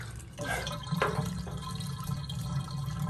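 Meltwater drains from a YETI Tundra 35 cooler as a steady near trickle and splash with scattered drips, running continuously without talk.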